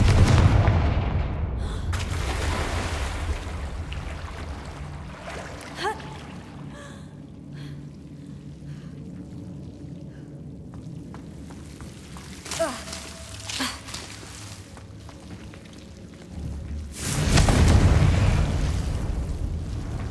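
Blasting fire spell in the Hogwarts Legacy video game bursts into a loud boom, with a second heavy explosion rumbling near the end amid game ambience.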